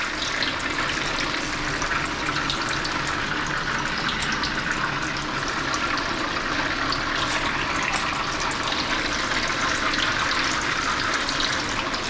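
Stinky tofu deep-frying in hot oil gives a dense, steady sizzling hiss that stays even and close throughout, with no speech.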